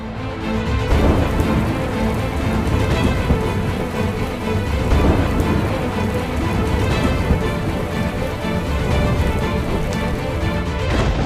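Heavy monsoon rain pours down steadily and loudly in Mumbai, a dense continuous roar with occasional deeper rumbles, and no voices.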